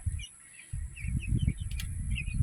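Young pullets cheep and chirp in their kennel, a steady scatter of small high peeps over a low rumble of handling and movement close by.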